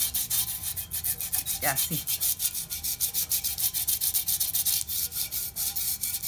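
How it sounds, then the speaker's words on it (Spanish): A garlic clove is rubbed firmly all over the surface of a clay cooking pot in quick, regular scraping strokes, close and continuous. A brief spoken phrase is heard near the start. "tallando el ajo en toda la olla"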